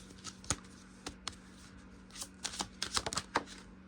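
Tarot deck being shuffled and cards pulled during a reading, a run of crisp papery riffles and slaps that thicken toward the end, close by and fairly quiet over a faint steady hum.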